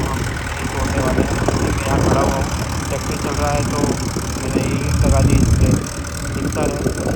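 A tractor engine runs steadily nearby on a natural farm, a continuous mid-low rumble with slight rises in loudness.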